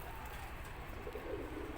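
Domestic pigeons coo at a pigeon fanciers' gathering. A soft, low, rolling coo rises near the end over a steady rumbling background, faint and somewhat distant, with no speech.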